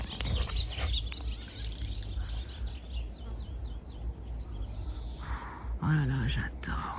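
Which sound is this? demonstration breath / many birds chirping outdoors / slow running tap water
many birds chirping outdoors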